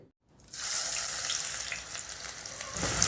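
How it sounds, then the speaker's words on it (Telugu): Thinly sliced large onion hitting hot oil in a kadai and frying with a loud, steady sizzle that starts abruptly after a brief silence and holds close and continuous. "ఇప్పుడు ఈ ఉల్లిపాయల్ని రంగు మారేంత వరకు వేపుకుందాం."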